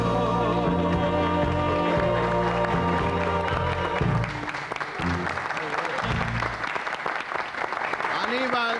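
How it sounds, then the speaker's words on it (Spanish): Applause from a television studio audience paying tribute to Uruguayan football idols Roque Gastón Máspoli and Aníbal Paz. It rises over music and becomes a dense, steady clapping wash that fills the second half of the clip. "y así los aplaudimos hoy en De Calegón"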